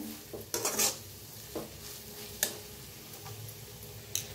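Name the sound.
masala spices being roasted and stirred in a pan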